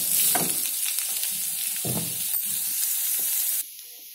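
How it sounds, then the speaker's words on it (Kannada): Onions sizzle and fry in hot oil in a pan, a steady close hiss with occasional stirring scrapes and pops, cutting off abruptly near the end when the heat drops away. "ಈರುಳ್ಳಿ ಚೆನ್ನಾಗಿ ಉರಿತಾ ಇದ್ದೀನಿ."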